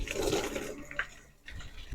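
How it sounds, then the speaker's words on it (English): Water gushes from an RV water heater's pulled overpressure valve on an Arctic Fox fifth wheel trailer, a close, steady rushing drain that fades and stops partway, then resumes more quietly. "A quick way to get your water heater emptied is to pull the overpressure valve."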